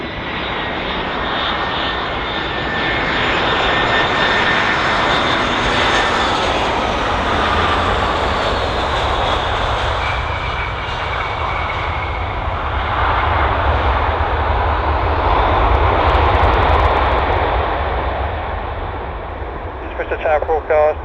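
A passenger jet lands at Bristol Airport, its engines roaring loud and steady throughout with a broad rushing noise that swells and fades slightly, heard from an outdoor spotting position with faint voices underneath.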